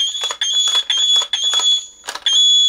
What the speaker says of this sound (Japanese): 起動音からの通常攻撃。